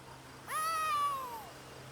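A cat named Winks in Elder Scrolls Online gives a single clear, drawn-out meow of about a second, rising then slowly falling, close and alone over a low steady game hum.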